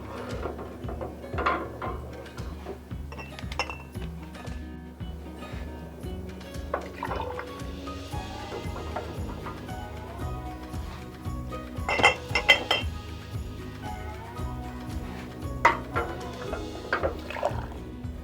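Glass wide-mouth pint canning jars clink and knock against each other and a metal canner as they go into hot water for sterilizing, a series of sharp clatters with a low watery rumble underneath, close by.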